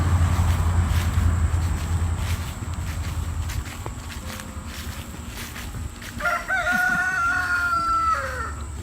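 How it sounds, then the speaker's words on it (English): A rooster crows loudly nearby over a background of footsteps and clucking hens, the long warbling call rising and trailing off near the end. "I love my chickens."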